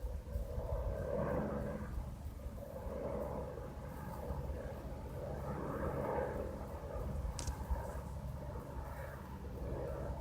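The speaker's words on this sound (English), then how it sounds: "Goes the police helicopter again." A police helicopter passes overhead at a distance, a faint, steady rotor rumble and drone filling the whole stretch with no voices.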